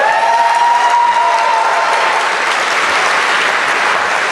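A Diwali event audience breaks into loud, dense applause for the volunteers, a steady close wash of many clapping hands with light cheering, holding for several seconds.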